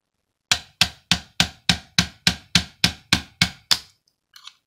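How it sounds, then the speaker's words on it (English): Plastic hammer tapping the cap on a Tornado CK-14/1 Pro vacuum brush roll: eleven sharp, evenly spaced knocks, close and loud, then a faint scrape. "take your nifty plastic hammer"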